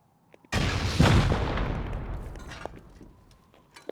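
In the Rust video game, a full row of raid rockets detonates against a base's weakest side in one heavy, booming blast. The rumble slowly fades over several seconds, and a few faint pops follow near the end.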